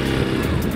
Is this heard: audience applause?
no